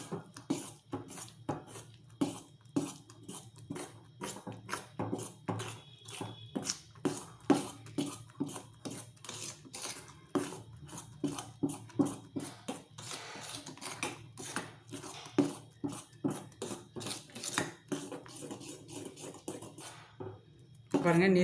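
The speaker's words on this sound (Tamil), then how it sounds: "இப்போ நம்ம இதை வந்து மிக்ஸ் பண்ண வேண்டியதுதான்." Kuzhi paniyaram batter, seasoned with salt and cardamom powder, being mixed by hand in a bowl: a steady run of quick, close-up clicking and slapping strokes keeps going with an even rhythm throughout.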